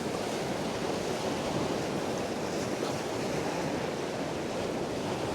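Strong fresh wind at the sea shore at Sandbanks, a dense, constant roar of wind mixed with surf, loud and unbroken throughout.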